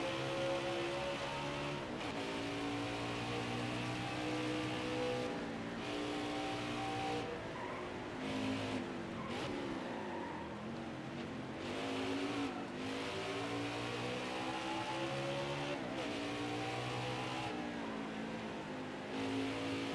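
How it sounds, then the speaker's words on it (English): NASCAR stock cars in the NASCAR Heat 5 racing game at a road course with a hairpin roar steadily, with engine revs rising and falling as gears shift and faint tire squeal, continuous and loud. "Schneider just cannot get the car to turn in the hairpin"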